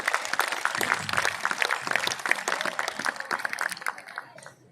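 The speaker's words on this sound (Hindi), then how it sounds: "सर के लिए जोरदार तालियां बजाएं" Applause from students and alumni at a school alumni meet, a moderately loud burst of clapping with some separate hand claps standing out before it tapers off and fades near the end.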